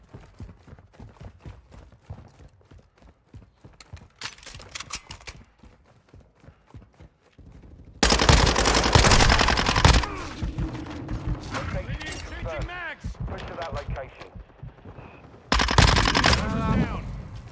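Gunfire in the video game High on Life, with a steady run of rapid shots early on, then a dense roar of loud bursts mixed with game noise and voices.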